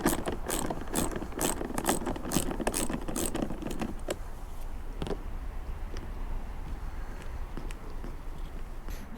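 A ratchet with a 10mm socket clicks in a rapid run of sharp ratcheting strokes on a 2004 Jaguar XKR fitting, then a few slower, isolated clicks and clunks follow more quietly, with no talking.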